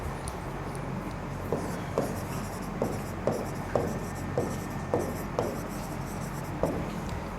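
Writing on a board during a general knowledge lesson makes a string of small, regular taps and scratches over a steady roomy background hiss, with no voice over it.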